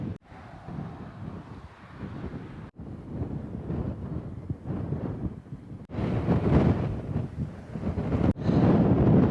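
Strong wind buffeting a microphone on a Peak District hilltop, a rough low rumble that rises and falls in gusts, loud and close, with no speech.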